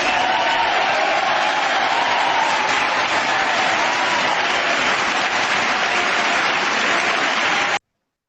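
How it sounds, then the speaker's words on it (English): Audience at a Toastmasters club meeting applauding, a dense, steady burst of clapping from a room of people lasting several seconds before stopping abruptly. "I appreciate your clap."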